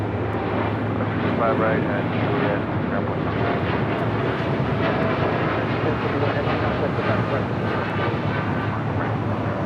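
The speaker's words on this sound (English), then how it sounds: "the Asiana A380 Super now makes its way to the gates of Tom Bradley" Asiana Airbus A380 taxiing toward the Tom Bradley terminal gates at LAX, a continuous dense engine rumble and hiss that stays loud and even, with a voice talking over it.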